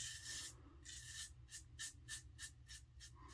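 Quiet, close scratchy strokes of a prototype twin-blade razor with a scalloped bar dragging through lather and 54 hours of stubble, repeating in a quickening rhythm with no talking.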